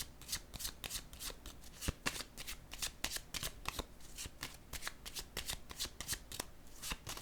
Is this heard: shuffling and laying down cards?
yes